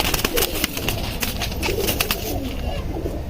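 Pigeons coo in soft, throaty bursts, several birds overlapping close by, with a busy rustling background throughout.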